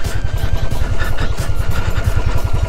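Motorcycle ridden off-road on rough tracks near a bird sanctuary, its engine thumping in a fast steady low pulse with rattling clatter, loud and close, no talking.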